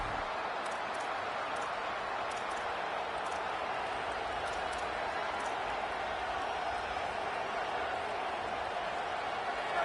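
A college football stadium crowd roars loudly and continuously throughout, a dense, steady wash of cheering noise with no break or lull.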